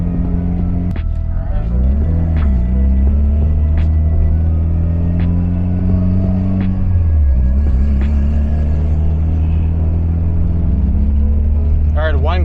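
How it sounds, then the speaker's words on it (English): A vehicle with a newly swapped transfer case drives along with a continuous loud engine rumble that shifts in pitch, while sharp little rattles from the dashboard tick through at intervals. A voice is briefly heard near the end. "There's no clunking. There's no whining. There's only my rattling dashboard."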